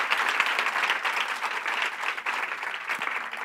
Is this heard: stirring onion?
no